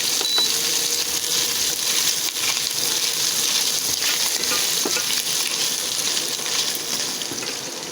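Meat browning in hot oil in a pan, a loud continuous sizzle and crackle with occasional stirring scrapes, close and constant throughout.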